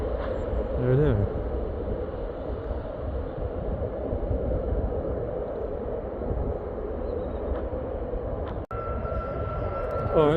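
An airliner takes off at Stansted Airport, its jet engines producing a continuous deep roar that rumbles steadily at a distance, with people talking nearby over it.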